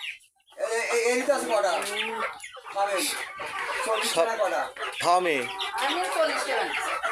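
Over 100 chickens on a farm cluck and squawk close by in a steady, busy stream of calls, with a few louder squawks rising above the flock.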